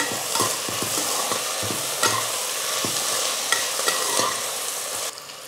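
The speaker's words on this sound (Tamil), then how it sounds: "கொஞ்சமாக உப்பு சேர்த்து வெங்காயம் நல்லா வதக்கிக்கலாம்" Chopped onions with curry leaves and a little salt sizzle in a pan while a spoon stirs them, a loud continuous frying hiss broken by repeated scraping clicks, close up with no talking.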